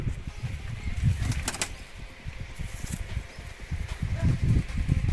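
Firozpuri pigeons flapping their wings nearby, bursts of soft fluttering and rustling over a busy background, with a few sharper knocks.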